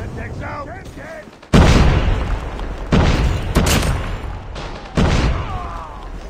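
Grenade blasts and gunfire in COD Mobile ranked multiplayer, with several sharp booming bursts near 1.5, 3, 3.6 and 5 seconds over steady battle noise, while voices shout callouts.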